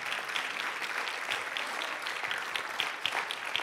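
A church congregation bursts into steady, dense applause that carries on without a break, with many hands clapping together and filling the room evenly for a few seconds.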